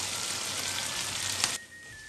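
Chili peppers hit a hot wok and stir-fry with sauce and scrambled egg bits, giving a steady broadband sizzle with a brief scrape before the hiss drops sharply near the end.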